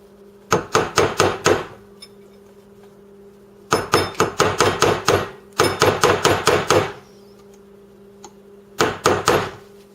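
Sharp metallic hammer blows on a punch marking metal for drilling land in quick bursts of five or six strikes, separated by pauses, ringing close and loud.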